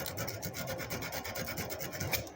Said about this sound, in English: There's the 80 grit. I'm going to just blow through this one piece of paper right here.